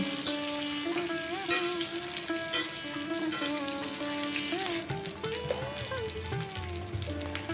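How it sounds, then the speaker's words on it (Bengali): Chopped garlic, onion and chili fry with spluttering mustard seeds for a Bombay duck curry, a steady sizzle and crackle with occasional stirs, partly masked by melodic music. "রসুন কুচি পেঁয়াজ কুচি আর লঙ্কা কুচিটা আমি দিয়ে দিচ্ছি দিয়ে একটু লাল লাল করে ভেজে নেব"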